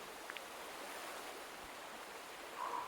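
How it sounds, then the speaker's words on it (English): A river flowing in the Another Code: Recollection video game gives a faint, steady wash of rushing water with no breaks, soft and distant throughout. "I wonder where this river is flowing from."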